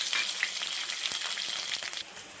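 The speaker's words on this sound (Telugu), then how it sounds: "తాలింపు అయితే మంచిగా వేగిందండి" Tempering seeds, dried red chillies and garlic sizzle steadily in hot oil in a small kadai for a mint and dried chilli chutney: a dense, bright, continuous crackle with occasional sharper pops, close and loud throughout.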